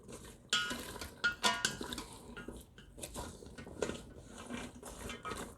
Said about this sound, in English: we're just gonna stir our green beans around, get them mixed in with all of that yummy flavor